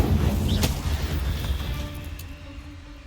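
Incendio fire spell cast in the Hogwarts Legacy video game against a giant spider: a sustained, dense roar of fiery blasting with a sharp crack early on, loud and steady before easing slightly toward the end.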